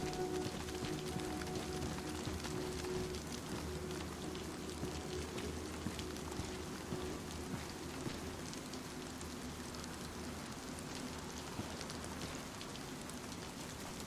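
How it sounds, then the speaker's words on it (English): Steady rain falling outdoors at a busy corner, a dense even hiss of drops on surfaces that holds constant for the whole stretch, with no voices over it. "Alright, so it's raining."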